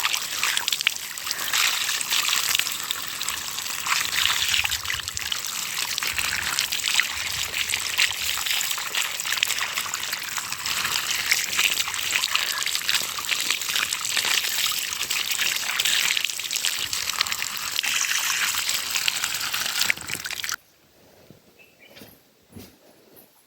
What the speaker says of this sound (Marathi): गरम पाणी बाई.